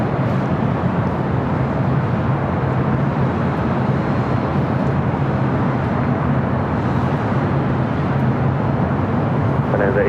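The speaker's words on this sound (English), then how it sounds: "American Airlines flight 407 coming in from Charlotte, an A321" An American Airlines A321 airliner arriving at LAX, a steady broadband jet rumble and roar that holds throughout, with people talking over it.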